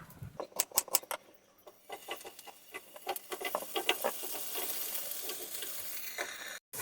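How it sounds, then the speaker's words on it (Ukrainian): Courgette slices sizzle and spit in a hot pan, with crackling pops and a steady frying hiss building up; nobody speaks. "Тим часом, поки смажаться кабачки, нарізаємо до кропу помідори."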